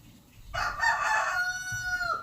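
A rooster crows once, loud and close, a long drawn-out cock-a-doodle-doo that rises and then trails off, with faint room noise underneath.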